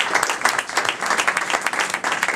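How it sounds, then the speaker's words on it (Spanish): An audience at a MadridJUG Java user group meetup claps in a dense, steady burst of applause filling the room, with many hands overlapping continuously and no pause. "nos merecemos todos un aplauso"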